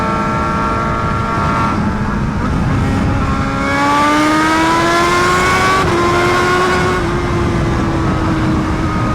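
A BMW HP4 Race motorcycle with a full exhaust at full throttle on a race track, a loud close-up engine howl whose pitch climbs steadily through the gears with brief shift breaks.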